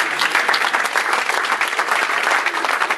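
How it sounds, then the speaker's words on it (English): A crowd at a Jail and Bail charity event claps loudly and steadily for a few seconds, dense even applause with no talk over it. "Give a round of applause."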